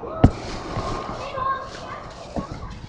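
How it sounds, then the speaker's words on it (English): Small backyard fireworks go off in the evening, one sharp close bang near the start and a softer pop later, with people talking and moving around between them. "Anyways, fireworks time."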